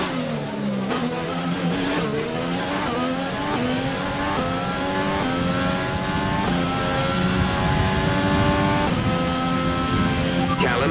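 A Formula 1 race car in a video game accelerates out of the pit lane, its engine revving steadily upward through several gear changes, loud and continuous throughout.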